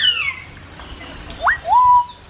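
Birds in a walk-through bird park give a few short, bright chirping calls, close by against quiet background.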